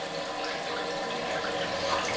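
Water runs continuously from a tap as someone washes their face at a sink, a steady, close splashing rush that stays even throughout with no talking.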